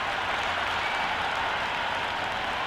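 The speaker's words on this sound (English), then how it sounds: "already the crowd is up and about" A stadium crowd applauds and murmurs in the Cricket 26 video game at an India versus New Zealand one-day international, a steady dense wash of clapping and crowd noise with no distinct breaks.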